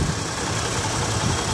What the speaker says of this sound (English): Underneath the hood, the engine idle is very smooth.